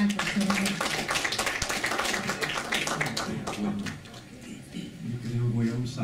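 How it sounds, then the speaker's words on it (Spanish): An audience at an anthropology and legal pluralism conference claps to welcome a doctor to the podium: a dense patter of hand claps, loudest at first, then thinning, with people talking over it. "un aplauso y damos la bienvenida al doctor"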